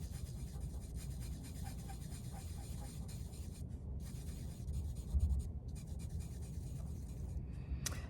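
Charcoal scratches and rubs steadily across paper during drawing and colouring in, a close, continuous scratchy rasp with brief pauses where the stroke lifts.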